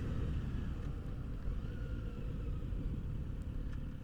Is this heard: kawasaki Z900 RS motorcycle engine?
yes